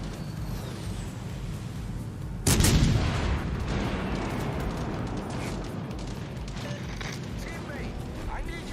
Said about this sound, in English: So we can get one more salvo off on the King George.